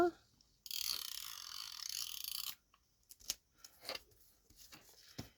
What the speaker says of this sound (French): je vais venir coller avec le double face